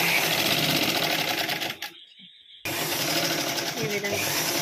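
A sewing machine stitches frills with a fast, steady mechanical whir and rattle, stops for under a second, then starts again and keeps running.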